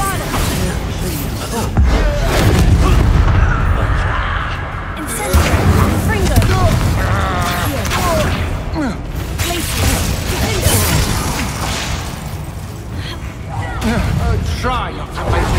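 Explosive booms and crashing impacts from a Hogwarts Legacy duel as the Expulso blast spell goes off, loud and dense over continuous game noise, with a voice speaking throughout.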